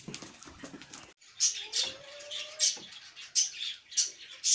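Birds chirp near grain scattered for them on a farm with mini hens, a run of short bright calls repeating at close range after a brief rustle.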